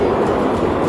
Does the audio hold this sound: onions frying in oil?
no